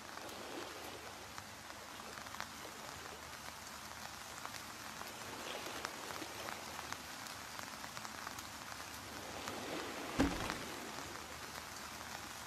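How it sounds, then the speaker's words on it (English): Steady rain in the VR video game Ocean Craft patters on a surface, a soft, even hiss of drops that continues throughout without any talking. "we've got the rain cloud coming"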